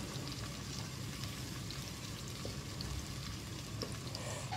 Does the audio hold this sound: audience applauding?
no